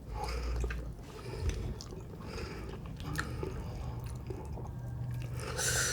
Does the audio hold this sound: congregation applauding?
no